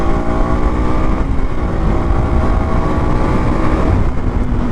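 A KTM RC 200 single-cylinder motorcycle engine runs steadily and loudly throughout on a night ride in Mumbai, a continuous droning hum mixed with wind rush and no speech.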